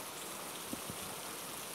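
Heavy rain falling during a tilapia fishing outing, a faint, even hiss of downpour with a couple of soft nearby drips or taps, no talking.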